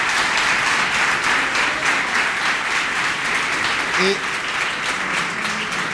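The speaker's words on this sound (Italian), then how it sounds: "Facciamo un applauso." Loud, sustained audience applause fills the room at an Italian music event, steady clapping with cheering voices mixed in throughout.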